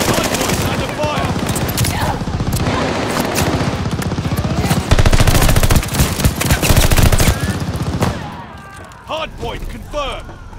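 Heavy automatic gunfire and rapid bursts fill a Call of Duty Vanguard Hardpoint match on the Sub Pens map, with loud continuous shooting, booms and game voice callouts over it, tapering off near the end.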